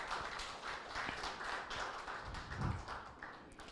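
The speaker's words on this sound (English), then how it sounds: "I want us to acknowledge them with a round of applause." Audience at a founders' day lecture applauding sponsoring advisors, faint, distant patter of hands clapping, low in level and fairly steady throughout.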